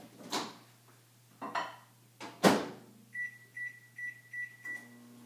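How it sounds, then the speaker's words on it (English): A few cupboard and dish clatters, then a microwave oven's electronic beeps in a quick series of five, followed by its low steady hum starting. "we're going to stick it in for 30 seconds in the microwave"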